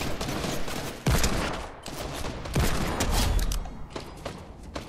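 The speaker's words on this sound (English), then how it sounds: "I blocked Minid from shooting that one" Gunfire erupts in Fortnite OG Season, a rapid series of loud, sharp shots and impacts in bursts, with a heavy boom partway through and scattered cracks trailing off.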